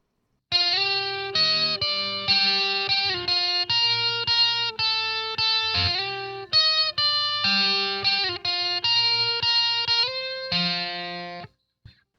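An electric guitar played through a VOX Amplug 2 Metal headphone amp with reverb rings out a melodic line of sustained, distorted notes, loud and close, with a lingering tail after the final note.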